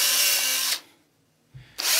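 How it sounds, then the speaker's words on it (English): A power drill with a 1/16 inch bit bores through the center knob of a bicycle tire: a loud, steady whine for under a second, then quiet, a short low bump, and the drill spinning up again. "just drill through the top of the center of the knobby"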